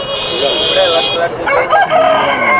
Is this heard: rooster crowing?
yes